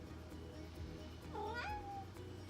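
Indoor house cat giving a single short rising-then-falling meow, faint against low background hum, with no talking.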